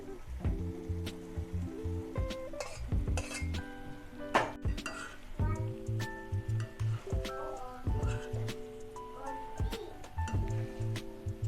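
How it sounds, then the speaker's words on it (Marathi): Boiled pasta is stirred in a pan, making close metallic clinks and scrapes in an irregular rhythm with a light sizzle underneath. "हे पास्ता आपण व्यवस्थित मिक्स करून घेतलेला आहे"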